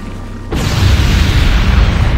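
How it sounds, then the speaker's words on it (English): Bombing run in the Halo Wars strategy game on Xbox 360: a sudden loud blast lands about half a second in, then a heavy, continuous rumble of explosions that keeps rolling to the end, with no talk. "Bombs away!"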